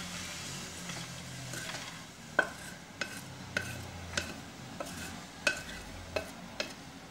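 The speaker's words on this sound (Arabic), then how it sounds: "غادي يدير دابا البصله" Onions for a chicken and almond pastilla fry in a pan with a low, quiet sizzle, punctuated by regular light taps and scrapes of a spoon stirring, close by with no talking.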